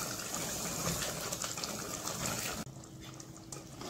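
Water poured into a pan of mutton korma being cooked at home, a steady rushing gush that runs loud and continuous, then cuts off sharply near the end and leaves a quieter background.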